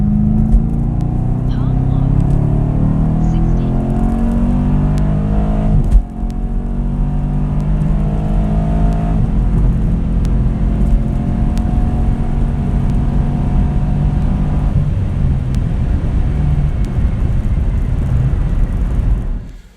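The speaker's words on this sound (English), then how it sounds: "so that rounds out the 3 runs for the 2018 Camaro SS" A 2018 Camaro SS accelerates hard during a 60-130 mph run, its engine note climbing through gears with rising, stepping pitch, a loud sustained roar heard from inside the car.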